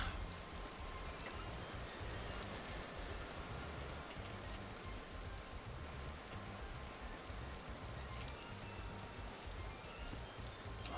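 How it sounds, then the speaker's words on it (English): Steady, dense rainfall patters down without a break in the survival video game Vintage Story, with no voices over it. "Back into the rain."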